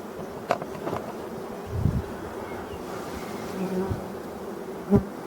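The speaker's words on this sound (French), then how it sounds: "on commence à voir les abeilles qui ont tendance un petit peu à aller vers le bas, attirées par l'odeur des cires" Honeybees buzz steadily around a hive, a soft continuous drone close by with faint wind and rustling and a few brief louder passes near the microphone.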